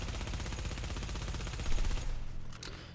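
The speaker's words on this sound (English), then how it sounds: "just gonna shoot. Let's see how the recoil goes." Vector submachine gun in the video game The Division fires a long continuous automatic burst, loud and dense for about two seconds before stopping, with a brief trailing tail and no talking.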